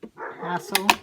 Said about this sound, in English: you can hear the dogs barking out there